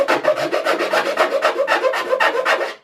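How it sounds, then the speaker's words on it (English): A hand file rasps back and forth across a part during assembly of a Stormy 45, about fifteen even, close strokes in a steady rhythm, with no talking. "A file is probably the easiest thing at this point."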